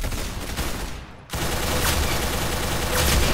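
Rapid automatic gunfire rattles in dense, loud continuous bursts, briefly dropping out for a moment before resuming just as intense and close.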